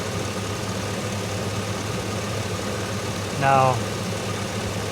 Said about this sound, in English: The engine idling.